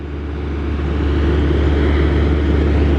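A food delivery truck idles behind a restaurant in Luray, Virginia, a loud, steady low engine rumble that grows slightly and then holds constant, close by and alone.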